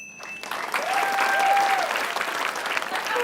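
An audience applauds at an Indonesian TV word-game show, steady dense clapping that swells and holds for a few seconds, with a faint tonal sting over it.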